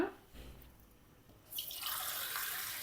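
Water poured into a pot of gooseberry (amla) rasam in a home kitchen, a soft broad splashing pour that starts after a brief quiet moment and runs steadily to the end, close and moderately loud.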